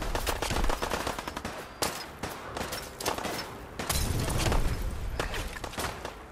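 Gunfire in Fallout 4, with repeated sharp shots and bursts of automatic fire running densely throughout, loud and close, brief gaps between volleys.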